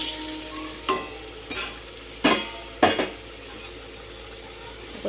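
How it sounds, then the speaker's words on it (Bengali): Potato pieces fry in a pan over a steady soft sizzle, while a utensil stirs and scrapes them in four or five distinct clattering strokes at irregular intervals, close by and with no talk. "দেখো আলুটা দেখো লাল লাল করে প্রায় ভাজা হয়ে এসছে"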